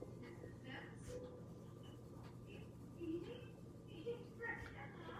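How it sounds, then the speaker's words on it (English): Soft, scratchy colored pencil strokes scribbling on paper come in quick irregular bursts, quiet and close, with a faint murmur of voice behind them. "I'm just gonna scribble behind each star"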